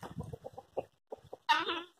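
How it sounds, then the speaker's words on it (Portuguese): Guinea fowl give choppy, clucking calls in a barnyard among other chickens, a run of short notes followed by a louder, harsher cry, close by. "É muito bonita a galinha da Angola"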